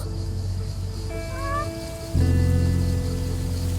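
Cats meow in the game Lake, a couple of short rising meows over a steady rain-like background hum, with a louder ambient shift partway through.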